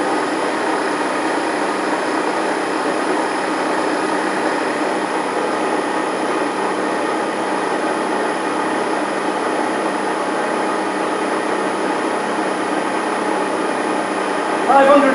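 A 1.4 transfer case spins at about 1945 RPM on a test bench, giving a steady, loud mechanical drone and whine that holds constant throughout with no pauses.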